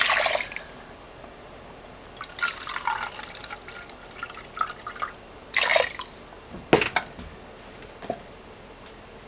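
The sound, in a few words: chicken stock being poured into a pot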